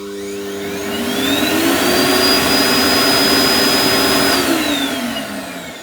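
A Parkside vacuum cleaner runs steadily, with a loud motor whine that ramps up in pitch, holds a sustained high tone, then winds back down as it switches off.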